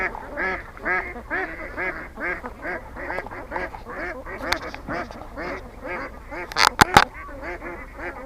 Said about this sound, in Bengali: এই যে পুকুরের পাড় দিয়েও হাঁসগুলো চলাফেরা করে